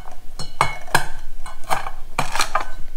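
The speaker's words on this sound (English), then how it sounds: "one of the easiest ways to do it, if you don't want to get out your processor or your blender, is just smash it with a pot" A pot repeatedly smashes roasted peanuts for pad Thai, giving several sharp, close knocks and crunches spaced irregularly over a few seconds, with no talking.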